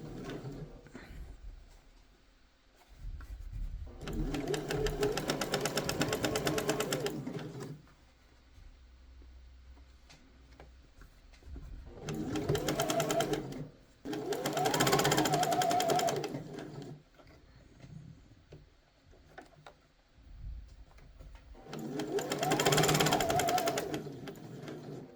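A sewing machine stitches bias binding along the placket slit of a shirt in three separate bursts, a steady whirring run each time, with quiet pauses between.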